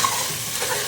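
Mutton going into a hot biryani pot, giving a loud, continuous sizzle with stirring over a brief moment.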